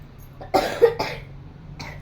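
A child coughs several times in short, close bursts, with a brief pause before one last cough.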